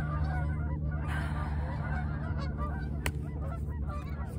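Geese honk repeatedly in a noisy flock outdoors, their overlapping nasal calls steady and fairly loud against a constant low background hum.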